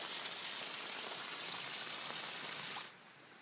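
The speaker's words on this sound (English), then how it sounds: "Just some light rain." Light rain after a storm patters steadily as a broad, even hiss beside a pond, then drops away abruptly near the end.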